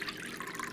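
Rice vinegar poured from a cup makes a short, close, steady trickling splash with no pauses.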